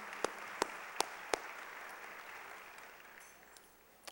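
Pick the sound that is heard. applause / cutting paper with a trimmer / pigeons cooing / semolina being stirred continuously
applause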